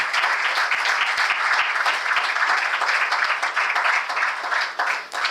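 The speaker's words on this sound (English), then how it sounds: "Let's give a huge round of applause for the legacy that we witnessed today." A crowd applauds at a company's stock listing ceremony, a dense, even wash of clapping that holds steady for several seconds with no talk over it.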